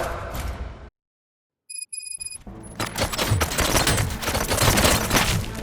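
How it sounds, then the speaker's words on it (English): Rapid bursts of gunfire in RoboCop: Rogue City on PS5 Pro erupt after a brief silence and a few electronic beeps, growing into loud, sustained shooting. "Gunshots? What's going on?"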